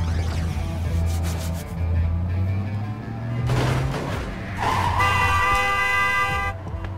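Truck horns honking in the video game Cluster Truck, with a low sustained engine-like drone giving way to bright, layered horn blasts, loud and close over game music.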